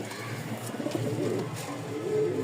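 A pair of Danish pigeons coo while the male courts the hen: soft, low, repeated throaty coos over a steady background murmur, with no talking.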